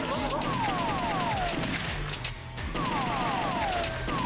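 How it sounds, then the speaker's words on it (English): Rapid bursts of arcade gunfire from The House of the Dead 2 crack out in dense volleys along with electronic game effects and descending tones, loud and continuous, with a brief dip in the middle before the shooting resumes. "I shoot you in the chest"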